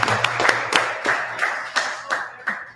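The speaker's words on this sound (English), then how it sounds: "Let's clap it up for you first." A small group at a STEM expo claps in quick, uneven bursts, the sharp hand slaps repeating close by for a few seconds.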